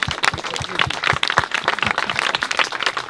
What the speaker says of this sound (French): On applaudit le professeur Reeves.